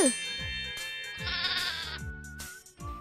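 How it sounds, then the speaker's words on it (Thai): A cartoon ram from New Zealand in a 2D animation bleats repeatedly. Several short, wavering cries come at a steady pace, layered over light musical tones. "เจ้าเรโท แกะเพศผู้ที่ถูกซื้อตัวมาจากประเทศนิวซีแลนด์"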